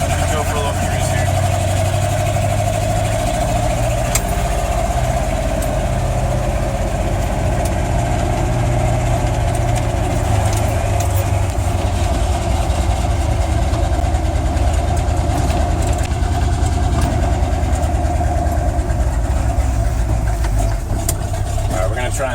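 A truck's engine rumbles loudly and steadily up close throughout a slow drive, with a constant low drone that never lets up.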